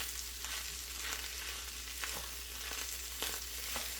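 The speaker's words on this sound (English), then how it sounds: "I'm just going to get the onions going, add some spices, then add the peas and carrots" Onions frying in a pan with spices at home, a steady low sizzle with occasional soft crackles and stirring clicks, moderately quiet and continuous without talk.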